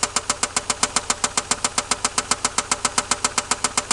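The engine of a 1990 Toyota Supra with a suspected lifter fault runs close by, producing a sharp, regular ticking knock repeated evenly several times per second over a low idle hum.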